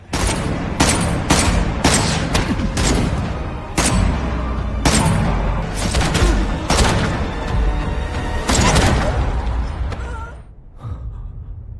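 Gunfire rings out in a dramatic film scene as Moonbaek shoots at Lee-do, loud sharp shots cracking in a rapid, uneven series over booming background sound, then tapering off near the end.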